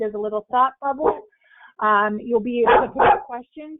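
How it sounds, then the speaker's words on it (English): A chatty pet dog barks and yips in short bursts close by, mixed in with and partly overlapping a person talking steadily. "So sorry about my chatty dog friend"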